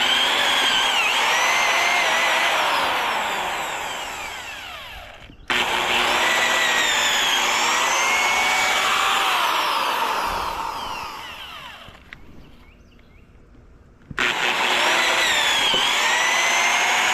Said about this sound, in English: Drill some holes in it